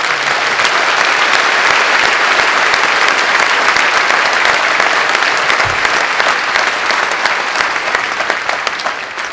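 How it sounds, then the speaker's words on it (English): A high school graduation audience in Cohasset breaks into sustained applause, a loud, dense wash of clapping from a large crowd that carries on steadily and tapers slightly near the end. "Please join me in a warm round of applause."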